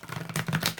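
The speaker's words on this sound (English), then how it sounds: "So I'm going to shuffle these up a little bit." Tarot cards being shuffled by hand, a run of soft, quick papery flutters and riffles at close range with no talking.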